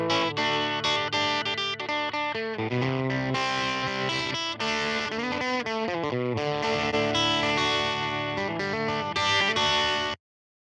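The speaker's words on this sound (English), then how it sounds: "the distortion in both these models is made up of predominantly odd harmonics, which contribute to their extra grind and rasp." Heavily overdriven, distorted tone from Logic Pro's Distortion Overdrive plugin, gritty and raspy with odd-harmonic grind, sustained for about ten seconds before stopping abruptly.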